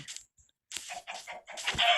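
Chickens in the Minecraft video game cluck in short, near bursts, a few separate calls and then a quicker run of clucks, with brief silences between them.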